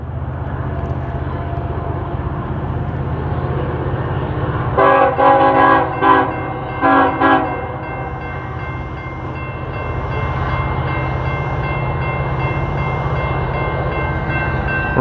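Union Pacific eastbound train passing a depot in Lawrence, Kansas, a steady heavy rumble of rolling cars, with a loud, close horn sounding in several short blasts midway, then the rumble carrying on alone.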